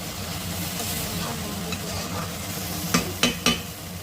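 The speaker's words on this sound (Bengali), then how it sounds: "পোস্ত বাটাটা দিয়ে ভালো করে নাড়াচাড়া করতে হবে, একটু যেন ভাজা হয়ে যায় পোস্তটা" Poppy seed paste frying with ridge gourd and potato in a pan, a soft steady sizzle under continuous stirring, then three sharp clacks of a spoon knocking against the pan near the end.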